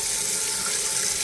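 Hot water streams from a tap over a cast iron pan in a sink, a steady close splashing rush with no break and no talking.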